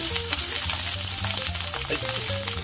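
Shishito peppers pan-frying on low heat give a steady, close hiss of sizzling oil with soft low rumble underneath, even and unbroken throughout with no voices.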